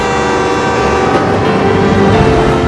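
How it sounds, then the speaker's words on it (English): A train rumbles past close by, loud and continuous, with a sustained horn-like tone over the rolling clatter of the cars. "There's a train coming!"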